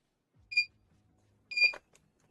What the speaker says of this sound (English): But you guys have to put up with the beeping.